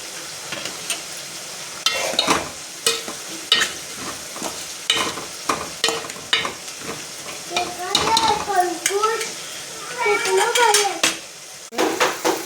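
Tomatoes frying in a pan with a brown fried base, with a steady sizzle under repeated scraping and stirring clatter from a utensil against the pan, plus a few sharper metallic clinks; no talking.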